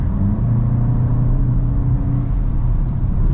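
A 2022 VW MK8 GTI S driving through turns, a loud steady in-cabin engine drone and road rumble with slight rises in revs, no talk.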